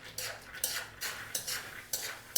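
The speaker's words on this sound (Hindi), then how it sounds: "तो बस धीमी आंच पे इनको हल्का सा हम फ्राई कर लेंगे।" Roasted chickpeas fry lightly over low heat, heard as a quiet series of rattling, scraping stirs against the pan, about five bursts separated by near-silence.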